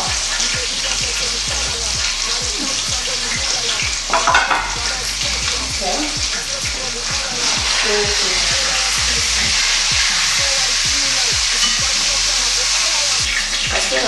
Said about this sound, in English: I want the fish to cook.